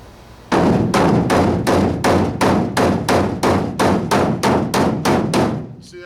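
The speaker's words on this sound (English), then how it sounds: "This is a magic hammer anyway." A body hammer pounds a sheet metal car body panel in steady, even blows, about a dozen loud, ringing strikes close by that then stop.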